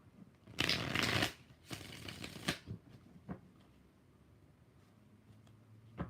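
Tarot cards being shuffled close up: two quick riffling bursts followed by softer taps and card clicks, then a quiet lull.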